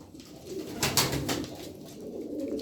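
Turkish tumbler pigeons of a mixed flock (blue, honey, smoky and Arab play birds, males and females) coo in a steady, close, throaty murmur with no voices.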